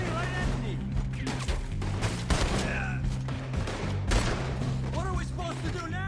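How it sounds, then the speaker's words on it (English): Gunfire in the video game Red Dead Redemption 2 as attackers open up during a shootout: rapid, irregular bursts of loud shots crackle over a steady musical backdrop, with shouted voices mixed in. "They're shooting right at me!"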